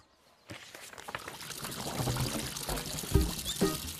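Water pours into a bathtub in a French cartoon, a steady gushing stream that starts suddenly and grows fuller, with a couple of splashy knocks near the end.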